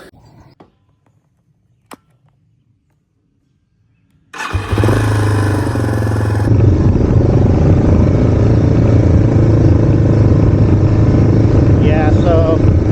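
Yamaha TW200 motorcycle fitted with ATV wheels starts after a few quiet seconds, then rumbles steadily and loud as it pulls away on a ride, the thumping single-cylinder engine holding a constant drone.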